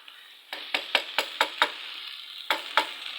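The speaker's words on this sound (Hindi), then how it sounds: "बस इसको इसी तरह हमने जो है वो फ्राई कर लेना है अच्छी तरीके से" Chana dal and tinda frying in a little oil, with a soft sizzle beneath a rhythmic series of about nine sharp spoon scrapes and taps against the pan, close and distinct.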